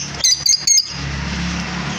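Lovebirds kept in a bird-selling setting give three quick, sharp chirps in close succession, followed by a low background rumble.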